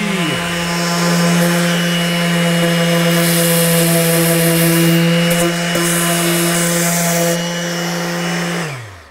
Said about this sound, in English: So we're gonna use a 240 sand grit.